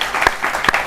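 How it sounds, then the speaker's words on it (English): Audience applause in a talk-show studio during an interview with actors from Power, a short steady burst of clapping at moderate loudness. "You wouldn't be clapping like that."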